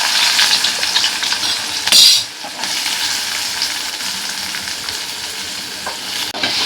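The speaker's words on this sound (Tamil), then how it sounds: "இப்போ எண்ணெய் காஞ்சிடுச்சு. இப்போ நான் வெங்காயம் போட போகிறேன்." Sliced onions fry in hot oil for prawn thokku, a loud close sizzle with stirring scrapes and a sharp burst as they hit the pan, continuing steadily without speech.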